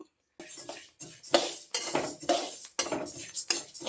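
Metal utensil scraping and stirring in a pan with rattling, crackling bursts of rice grains roasting and popping, continuous and close.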